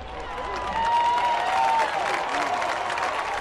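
Fans at a Greenville Drive minor-league baseball game clap and cheer as a broad crowd roar, swelling midway and staying loud, with a voice carrying above the noise.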